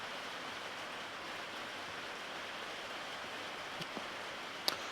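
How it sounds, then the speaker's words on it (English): Steady rain falls around a parked mid-size adventure touring motorcycle outdoors, a soft, even broadband hiss that continues throughout, with a couple of faint taps near the end and no voices. "I hope you can hear me over the rain."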